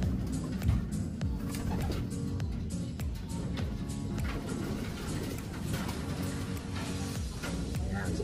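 Racing pigeons coo softly among a dense flock, with a steady rustle and murmur of birds and faint background noise throughout, a voice speaking now and then.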